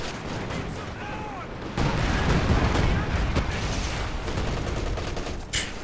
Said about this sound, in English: Just launching a volley onto the tech structures